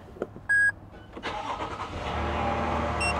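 A car engine starts after a few electronic beeps from the dashboard. It cranks, catches and settles into a steady, close idle with a slight rev.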